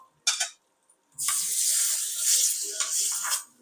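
Hot oil with asafoetida poured over ridge gourd chutney gives a short burst of sizzle, a pause, then a loud, steady hissing sizzle that swells and fades, with no speech.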